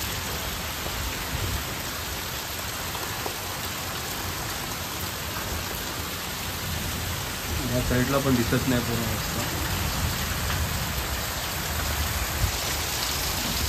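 A constant hiss of heavy monsoon rain in the Konkan, with gusting wind, fills the scene, while someone speaks briefly over it midway.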